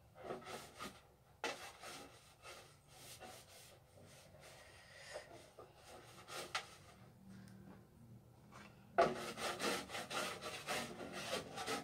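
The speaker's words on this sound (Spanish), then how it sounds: "voy a limpiar un poquito" Soft rubbing and wiping strokes across a pink wooden furniture shelf during cleaning, coming in short bursts with pauses, quiet and close.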